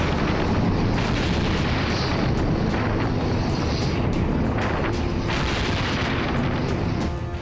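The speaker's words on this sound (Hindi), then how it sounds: "हिजबुल्लाह के एक एक ठिकाने पर इजरायली बम और बारूद ऐसे ही बरस रहे हैं।" Israeli bombs strike Hezbollah positions in a sustained, heavy roaring rumble of blasts and booms, loud and unbroken, with faint higher crackles rising over the low thunder.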